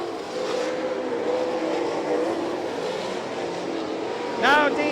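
All Star Circuit of Champions race cars roar around the Lima, Ohio track in a steady, distant engine drone, with one car whining louder as it passes near the end.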